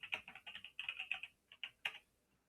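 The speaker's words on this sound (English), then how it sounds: "you can just go over to the terminal and type which Python 3" Typing a command on a computer keyboard in a terminal, a quick run of close, crisp key clicks followed by a few separate taps, quiet and alone.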